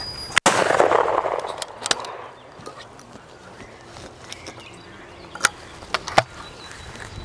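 A loud sharp blast from an over-and-under shotgun rings out near the start, then a quieter stretch with a few scattered sharp cracks and clicks.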